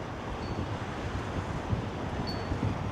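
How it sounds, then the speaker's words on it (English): Constant blustery wind rushing over the microphone at a wetland in early morning, a dense low roar with no pauses, close and fairly loud. "And it is kind of a windy day today."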